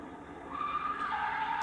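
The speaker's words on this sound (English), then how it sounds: "Obligatory skid." Tires skidding on a small Japanese kei car, a fairly faint squeal that rises and holds for a moment with a brief pitch drop near the end.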